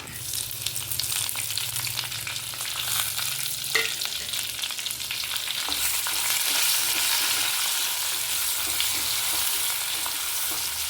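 Crushed onion, chilli and curry leaves hit hot oil in a frying pan and sizzle loudly and continuously, the hiss swelling partway through, close up with no talking.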